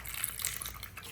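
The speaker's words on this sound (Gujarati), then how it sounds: "એમાં પાણી નાખીશ" Water pours onto garden soil for mixing, a soft, steady trickling splash heard up close and fairly quiet throughout.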